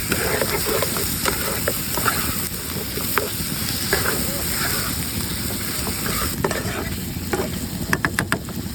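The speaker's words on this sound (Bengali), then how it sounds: "কালো জিরা ও সাদা তেল বেটে নিয়েছে এবার দেখুন দিয়ে দেবো এবার ভালো মতো কষে নেবো" Chicken with ground black cumin and oil fries in a pan, a continuous sizzle with regular scraping and clinking strokes as it is stirred.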